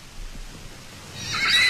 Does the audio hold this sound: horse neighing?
yes